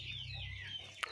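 Young Kuchinsky Jubilee chickens cluck softly and close by in a steady murmur of calls, with a brief sharp sound near the end.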